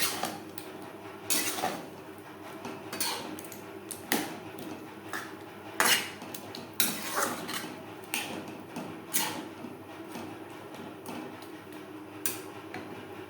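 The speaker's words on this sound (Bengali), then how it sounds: "ডালের সাথে পেঁপে বেশ ভালো করে মিক্সড করে দেবো।" A spoon stirs chopped papaya into moong dal in a metal pot, making irregular clinks and scrapes against the pot at close range, with quiet pauses between the strokes.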